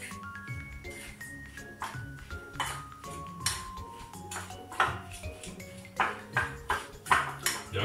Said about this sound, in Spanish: Y ahora esta mezcla lo único que tenemos que hacer es remover.